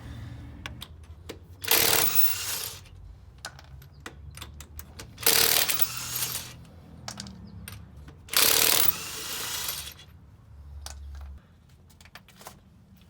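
Quiet ratcheting clicks and a few louder bursts of rasping, mechanical effort come from work on small Allen bolts on a car's control arm, spread across a garage scene with a low hum beneath.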